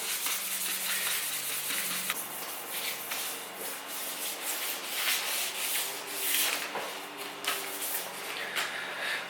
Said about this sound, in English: Alright, so it's pretty sufficiently sanded.